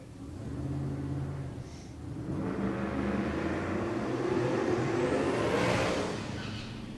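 A Mazda pickup truck, Ranger-based, drag racing at Race Week in Ennis, Texas, passes with a rising engine roar that swells and sweeps up in pitch as it nears, then fades slightly; no talk.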